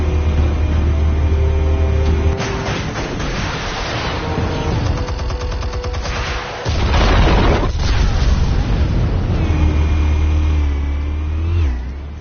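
Explosives detonate in a Batman video game on PS4, bursts and booming blasts over a constant low rumble and engine-like drone with game music, loud and dense throughout.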